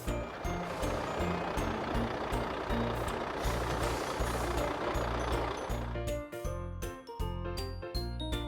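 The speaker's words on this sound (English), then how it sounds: "Mini truck." A toy mini truck reverses with a steady repeating beep over a rumbling engine, ending in a short bright chiming jingle.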